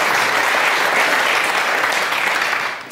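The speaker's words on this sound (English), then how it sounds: "Round of applause for Joe" An audience breaks into a loud, dense round of applause for a participant at a hypnosis and mind-reading stage show, sustained clapping that holds steady and then tapers at the end.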